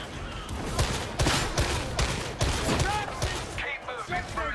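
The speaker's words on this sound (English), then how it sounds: "What's shooting at us through the wall?" Rapid gunfire in a first-person video game, with shots punching through a wall in dense, loud bursts that keep going almost nonstop, and voices talking and calling out over the shooting.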